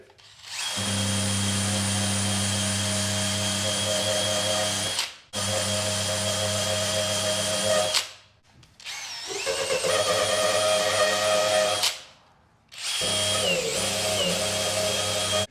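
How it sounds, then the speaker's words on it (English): A power drill spinning a rubber eraser wheel to strip badge adhesive from a 5th-generation Ram truck whines loudly at high speed in long continuous runs, stopping briefly three times before spinning up again. "It's just a little rubber tool here that you put into a drill and it spins"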